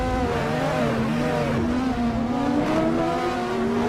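Race car lapping a track in a sim racing game, likely an LMP prototype, its engine droning steadily with rising and falling revs throughout, loud and continuous with no talk over it.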